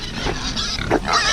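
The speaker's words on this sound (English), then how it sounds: "They're a very playful bunch of pigs." Free-range farm pigs grunt and oink at close range around feeding time, a few short rough grunts in quick succession over a steady outdoor background.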